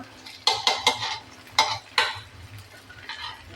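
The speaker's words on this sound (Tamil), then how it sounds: "வெங்காயம் நல்லா வதங்கிட்டு அடுத்த வத்தல் போட்டுக்கலாம். அடுத்த சீரகம் போட்டுக்கலாம்." Onions, dried chillies and cumin are sautéed in a pan for a spicy chutney, heard as several close, loud scraping stirs of a utensil against the pan over a faint sizzle.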